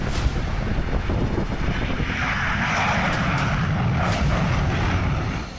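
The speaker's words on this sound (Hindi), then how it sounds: "लड़ाकू विमानों की यह गर्जना सुनिए।" Fighter jets at Waddington air base in England during the Cobra Warrior exercise: a loud, continuous jet engine roar with broadband rumble, sustained throughout and swelling slightly in the middle, no voices.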